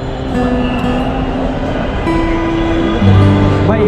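A Dhaka metro rail train hums steadily at the station platform, its motor drone rising slightly near the end with a brief tonal whine, close and continuous with no talk.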